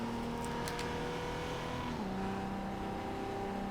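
A 1995 Toyota Supra RZ in Forza Horizon 2 holds a steady engine drone at about 4,000 RPM in fourth gear, loud and continuous, with a slight dip in pitch partway through and no talk.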